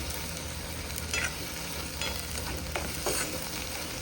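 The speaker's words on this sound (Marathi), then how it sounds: "छान असं तेल सुटेपर्यंत असं चांगलं परतून घ्यायचं" Okra masala being sautéed in oil until the oil separates, a soft, quiet sizzle with faint scraping of a spoon and occasional small pops, and no talking.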